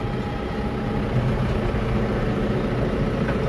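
A Case JX90 tractor engine runs at a steady, low, rumbling idle close by, a continuous diesel drone on a farm during urea fertilizer spreading.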